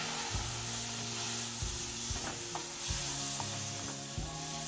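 Chopped tomatoes hit a hot pan with Kashmiri chilli powder and oil, sizzling steadily up close while a spoon stirs and scrapes in regular strokes about once a second.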